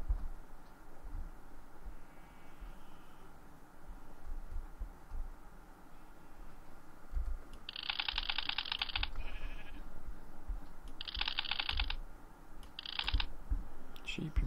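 Sheep in the Minecraft video game give short bleats amid quiet background noise and occasional clicks, with three or four bursts spaced a few seconds apart in the second half.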